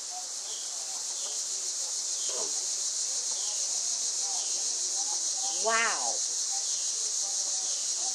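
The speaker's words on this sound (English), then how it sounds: "I mean, the crickets are really going, too." Crickets chirp during a solar eclipse as a dense, continuous high-pitched trill that fills the background. A squeal and a short call rise over it, and a voice speaks briefly.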